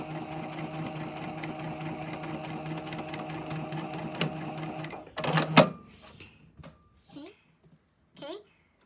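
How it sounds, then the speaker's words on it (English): A sewing machine stitching the center back seam of a garment runs steadily for about five seconds, then stops with a clunk as a voice begins speaking in short phrases. "sew the center back seam together all the way up to the notch"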